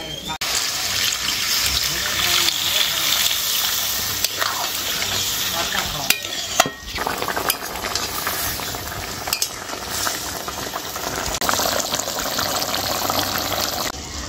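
Spice masala and potatoes frying and being stirred in a pan for a paneer curry, a steady close sizzle with scraping stir strokes throughout, a few sharper clinks midway.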